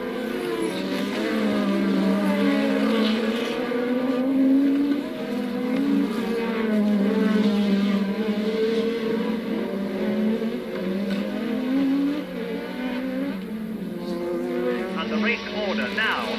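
Formula 1 race cars speed around the Estoril circuit in Portugal, a steady engine drone running throughout at moderate distance while a commentator talks over it.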